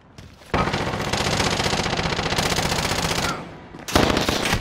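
Sustained hostile automatic gunfire in the Call of Duty video game, loud and continuous rapid bursts for several seconds, a brief lull, then another close burst with no talk.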